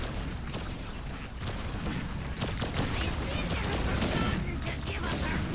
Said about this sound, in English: A lot of those shots are going up top.